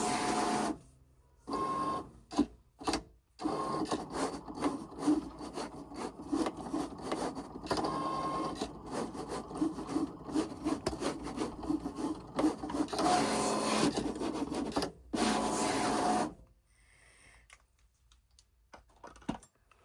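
A Cricut Explore cutting machine pulls in its mat and cuts iron-on vinyl, giving a loud, busy run of whirring motor noise and rapid mechanical clicks in bursts, with brief pauses, before falling quiet near the end.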